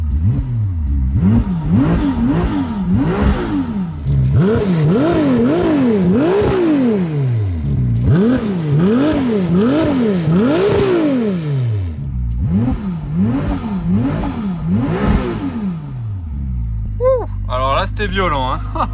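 A Ferrari 296 GTB engine revs repeatedly in sharp, rising and falling sweeps, loud and close, pausing between bursts before a final blip and settling.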